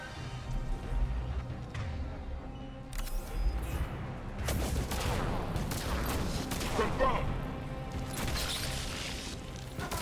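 Weapon fire in the shooter game Mass Effect 3 sounds as bursts of rapid gunshots and crashes over a low battle din. Intermittent talking runs alongside the shots.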